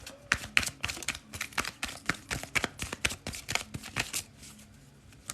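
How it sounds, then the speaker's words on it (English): Tarot cards being shuffled by hand: a rapid, steady run of crisp riffling flicks and taps, close and clear, with no talking. "let's shuffle real quick"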